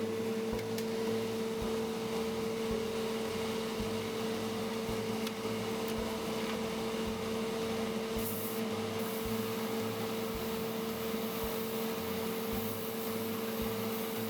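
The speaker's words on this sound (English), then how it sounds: "I turned on the exhaust fan" The exhaust fan of a homemade airbrush spray booth runs as a steady, even hum with a constant tonal drone, unchanging throughout with no voices.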